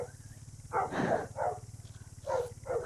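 Dogs bark in a run of five or so loud, close bursts over a steady low engine hum, likely from a stopped motorcycle on a trip around Tākaka, with no talk.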